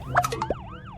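A police car siren wails in rising and falling sweeps, moderately loud and continuous, preceded by a few brief clattering knocks, with a low engine rumble beneath and no talk.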